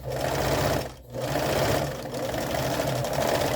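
Domestic sewing machine stitching fabric pieces for a small orange stuffed monster toy, a steady close whirring drone with a brief pause near the middle before running on.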